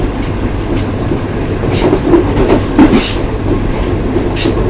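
The Green Line express train runs non-stop through Pakistan. A loud, constant roar of rolling carriages fills the sound, with rhythmic wheel clatter and brief metallic squeals, and nobody speaks.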